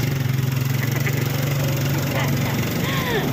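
A small motorcycle engine idles nearby with a steady, low putter throughout, a few faint background sounds drifting over it.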